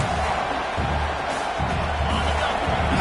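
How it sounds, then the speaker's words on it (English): A football stadium crowd roars steadily during a college game at UCLA as the defense tries for a stop near the goal line, a dense, continuous wash of noise with no single voice standing out. "the crowd really making some noise now, trying to help out this defense to get this stop near the goal line"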